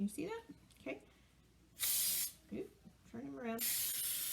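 Two short hissing bursts of cooking spray onto a cake pan, the second longer, come between bits of a person talking nearby.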